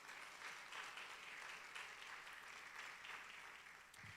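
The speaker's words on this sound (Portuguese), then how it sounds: "Aplauda Jesus, meu irmão, para saber que você está aí" A church congregation applauds at a service in Fortaleza, with dense, steady clapping for about four seconds that thins slightly at the end.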